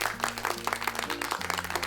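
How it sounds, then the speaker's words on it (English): Clapping from a small group in a stop-motion toy animation for children, a quick burst of claps over a sustained musical tone that shifts pitch partway through. "Everyone applauds."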